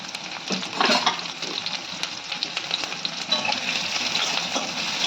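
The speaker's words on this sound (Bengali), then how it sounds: "পেঁয়াজটাকে লাল লাল করে ভাজবো" Onions crackle and sizzle in hot oil with nigella seeds while a utensil scrapes and stirs the pan now and then, close and steady.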